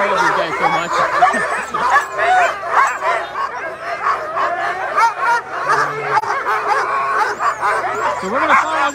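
Sled dogs at the Iditarod start bark, yip and whimper in an excited, continuous chorus nearby, with overlapping calls and no pauses.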